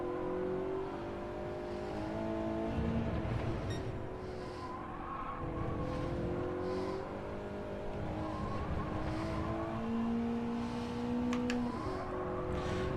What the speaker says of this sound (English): It's kind of half throttle through there, just to try and settle it down over those curbs.